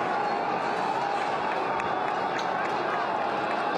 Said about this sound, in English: People are cheering. They're cheering as they retreat.